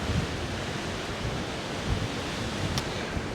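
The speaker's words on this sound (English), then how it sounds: "As you can hear, it's a little bit windy" Steady wind rushes and buffets across the microphone, a continuous broadband roar with low gusty thumps and no voices.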